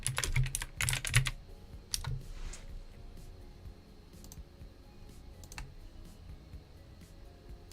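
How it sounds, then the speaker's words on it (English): Typing on a computer keyboard, quick bursts of clicking keystrokes at the start followed by sparse, scattered key taps with quiet pauses between. "I'm just typing arrow really quick."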